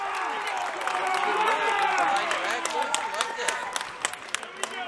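A high school basketball crowd in a gym, ConVal fans at Pelham, roars and yells after a basket, with scattered sharp claps and whistling voices rising over a sustained cheer.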